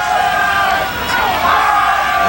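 Crowd of high school cheerleaders and fans at a 1997 Paulsboro versus Haddon Heights football game roar and yell continuously, a loud sustained wash of voices swelling and dipping.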